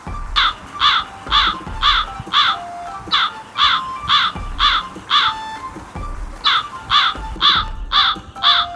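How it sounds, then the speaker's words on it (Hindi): Crows caw in a steady series of loud, close, harsh calls, about a dozen in quick rhythmic groups with a short pause midway and no talking. "क्रो की साउंड कैसे होती है?"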